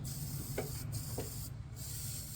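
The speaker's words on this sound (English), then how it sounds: "But spray it liberally on the terminals." Battery terminal protectant sprayed from an aerosol can onto a Dodge Ram 3500 Cummins truck's battery terminals, a close, continuous hiss broken by a couple of brief gaps.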